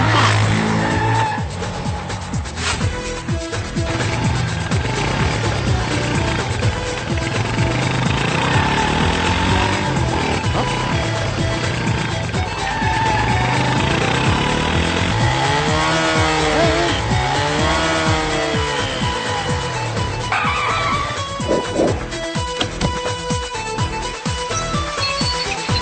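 Motorcycle and car engines rev and race through a fight scene in the Telugu film Happy, with tyres squealing and skidding, loud and continuous over a dense film soundtrack of music and effects, with no talk.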